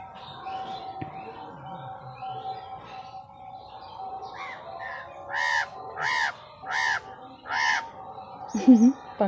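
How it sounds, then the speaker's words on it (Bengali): A crow caws outdoors, a series of four or five loud, harsh calls in an evenly spaced rhythm over a quiet background with faint distant bird chirps. "পাখির ডাক হয়ে গেল।"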